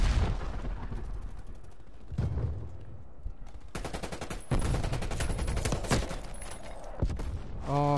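Grenade blast and gunfire in Black Ops Cold War, heavy booming impacts and bursts of rapid shots in an ongoing firefight, loud and close.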